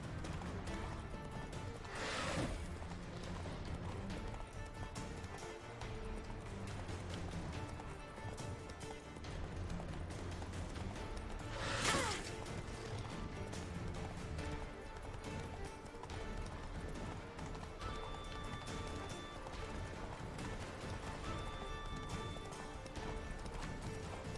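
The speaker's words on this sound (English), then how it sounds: "Oh, I suck at horse riding." Horse galloping in The Witcher 3, a steady run of hoof clip-clops that carries on throughout, with occasional neighs and whinnies rising above the hoofbeats.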